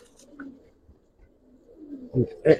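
Giribaz pigeons, an old breed, give soft low coos, with a couple of stronger coos near the end.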